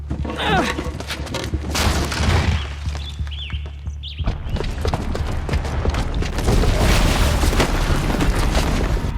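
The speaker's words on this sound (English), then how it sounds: "the booby trap on the bomb downstairs is gonna get set off" A booby-trapped bomb goes off in Horizon Zero Dawn, a sudden heavy blast followed by sustained roaring, crackling debris and rumble that fills the rest of the moment loudly.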